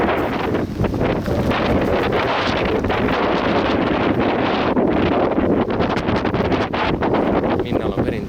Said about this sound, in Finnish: Kunnon tuuli.